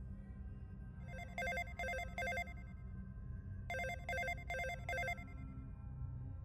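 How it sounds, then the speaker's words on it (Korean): A mobile phone ringtone rings in two bursts of rapid repeated electronic chimes, three pulses then four, clear and alone over a low background hum. "제 전화가 울렸습니다."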